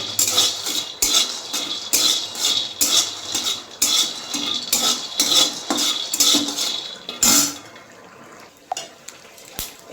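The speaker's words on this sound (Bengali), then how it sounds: "এখন বন্ধুরা বাদামটা ভেজে নিচ্ছি কড়াটা বেশি গরম হয়ে গেল" Peanuts roasting dry in an overheated wok, stirred with a metal utensil that scrapes and clanks against the pan in a steady rhythm of loud, close strokes, ending in a few sparse taps.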